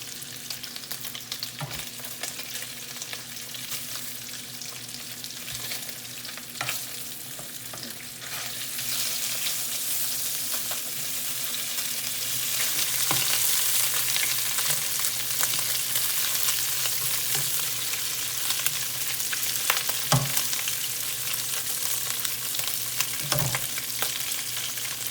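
Bacon strips fry in a pan, a steady crackling sizzle that grows louder and brighter partway through, broken by occasional tong clicks as pieces are lifted out, with no voices.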